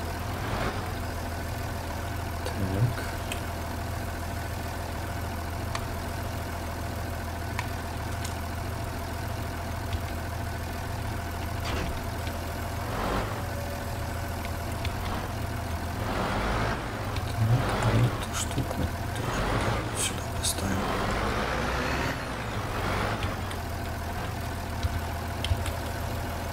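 Tractor engine in Farming Simulator 19 running steadily while plowing a field, a continuous mid-pitched droning hum with a faint knocking pulse, close and even, with a few brief clicks and swells.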